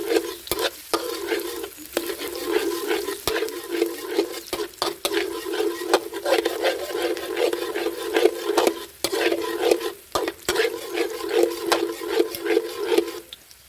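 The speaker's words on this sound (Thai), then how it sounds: "ใส่กระเทียมสับประมาณ 1 ช้อนลงไปผัดให้หอมก่อนครับ" Chopped garlic stir-fries in vegetable oil in a pan with a loud, close sizzle, and the spatula scrapes and clacks against the metal in a quick, irregular rhythm throughout.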